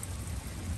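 Steady rain during a thunderstorm on a mountain in Maine, a dense continuous hiss of falling water with a low rumbling undertone, close and even throughout the short stretch.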